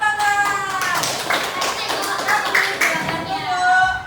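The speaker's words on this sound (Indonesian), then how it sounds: "Tepuk tangan." Children in a Grade 5 primary school classroom clap in a rhythmic pattern, with a fast sequence of close, sharp claps mixed with voices and chatter.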